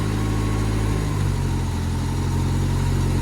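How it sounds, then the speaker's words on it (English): A barn-find Ford Escort RS Turbo S2 engine runs loud and close with a steady buzzing drone, its pitch shifting slightly about a third of the way in as the revs change, then holding steady. "Chris, can you give that a little rev"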